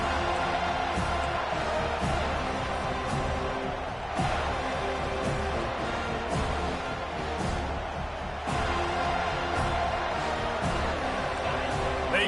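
A stadium crowd at a college football video game, Florida State hosting UCF, roars in a steady, dense wall of cheering throughout, with game commentary over it.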